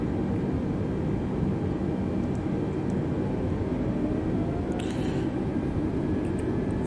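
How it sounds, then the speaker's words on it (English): An Airbus A320neo in Microsoft Flight Simulator taxis with a steady, loud engine drone and a broadband rumble that holds constant throughout, with faint clicks near the end. "Parking brake off, and then start taxiing."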